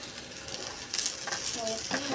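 Parota frying in oil on a pan, a steady close sizzle with brief stirring and scraping bursts, fairly quiet overall.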